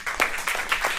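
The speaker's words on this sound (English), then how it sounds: "Please, a round of applause" A second of audience clapping during a talk on HIV and scientific knowledge, with a few distinct claps standing out over a steady patter.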